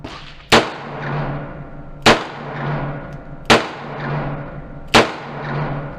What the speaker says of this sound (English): I feel a lot more comfortable shooting double action